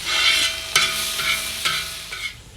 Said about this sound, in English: I'm gonna add the tomatoes in there, mix that around just real quick.